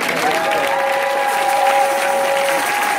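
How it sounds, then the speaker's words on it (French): A church congregation applauds and cheers for Jesus in steady, dense clapping with crowd noise and a sustained tonal voice or instrument line, loud and continuous throughout. "Est-ce que tu peux acclamer Jésus-Christ?"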